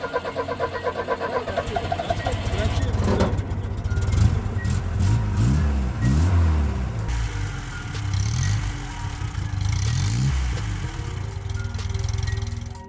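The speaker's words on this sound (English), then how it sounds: "and now we try a cold start" A car engine fitted in a homemade tank is cold-started, cranking briefly before catching and settling into a loud, uneven idle that rises and falls for several seconds, heard close up with no talking.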